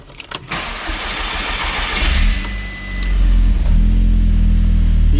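A rebuilt Audi S3 with the PHZ engine cranks over after its engine install, catches with a loud rising roar, dips briefly, then settles into a deep, steady rumbling idle, close to the car with no voices.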